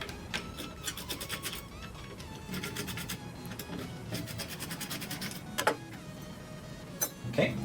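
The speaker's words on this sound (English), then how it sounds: "First, we're going to take out these 3 screws." Screws being unscrewed from the interior panel of a Samsung SHS P718 push/pull door lock, close rasping, ratcheting bursts from a screwdriver in short bouts with faint clicks between them.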